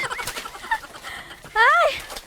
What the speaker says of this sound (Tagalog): Ito na yung mga nahuli ko na native chickens.